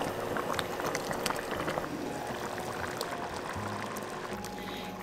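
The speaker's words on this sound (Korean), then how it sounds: "감자가 푹 익을 때까지 중불에서 끓여주세요" A meatless Korean potato stew with whole potatoes and mushrooms simmers on medium heat, giving a soft, steady bubbling with faint liquid gurgles close by and no voices.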